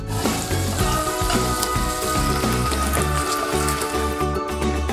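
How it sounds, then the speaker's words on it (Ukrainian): Meat medallions sizzle steadily in a hot pan, a constant crackling hiss that stays loud and close throughout, without any voices. "Повертаємось до м'яса і готуватимемо медальйони"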